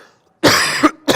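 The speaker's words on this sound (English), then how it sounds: "now I'm coughing up a storm here from the back" Two harsh, loud coughs close to the microphone from someone who has just eaten a potato wedge, a long rasping burst followed by a short one after a brief pause.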